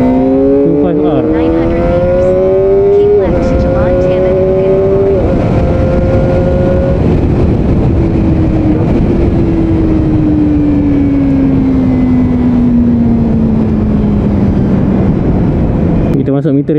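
Kawasaki Ninja ZX-25R SE motorcycle ridden in Malaysia, its engine loud and close with steady harmonic drone, pitch rising then slowly falling as the rider shifts and eases off, accompanied by wind rumble and someone talking over it.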